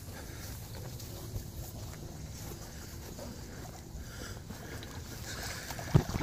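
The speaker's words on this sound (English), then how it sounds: "Now the sprinkler has come on." A lawn sprinkler sprays water after its valve is opened, making a steady broadband hiss and wash heard close by, with a slight rise near the end.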